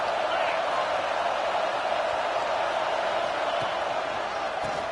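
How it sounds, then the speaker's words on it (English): Football stadium crowd at a college game between Florida and South Carolina, a steady roar of massed voices rising to back the defense, continuous and broad throughout with no clear breaks. "This crowd rising up, sensing that its defense needs some help."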